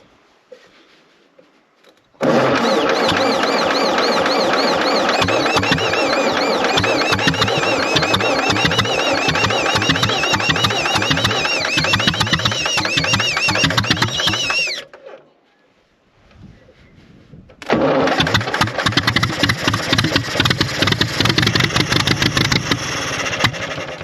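A Fordson E27N tractor that had sat unused for years cranks and fires into a loud, rough chugging run, cuts out briefly, then restarts and keeps running close by.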